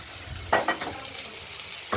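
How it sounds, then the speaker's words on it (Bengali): Katla fish fries in a pan with a steady, close sizzle, broken by a few soft scraping stirs and a clatter near the end, with no voices. "মাছটা ভাজা হতে থাকুক"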